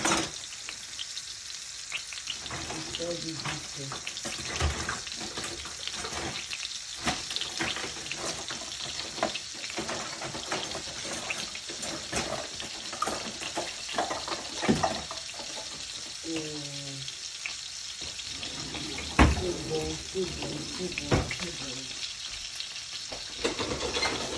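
Meat frying in cooking oil in a home kitchen, a steady close crackle and sizzle running throughout with a few brief running-water splashes, alone with no talk.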